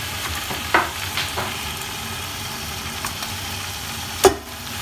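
Onions, garlic-ginger paste and tomatoes fry in a pan on a home stove, giving a steady low sizzle with a few sharp stirring clinks and scrapes, close and moderately loud, with no talking.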